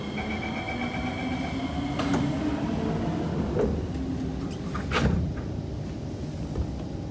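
Kawasaki C151 electric train on Singapore's SMRT North South Line pulling away from Choa Chu Kang toward Bukit Batok, its traction motors droning steadily with rising whine, rail clatter and a couple of louder bumps near the middle.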